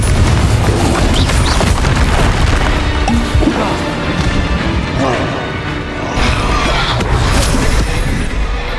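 Blasting spells burst in a Hogwarts Legacy battle, heavy booms and crashes layered over dense, continuous game combat noise, with character voices calling out over the mix.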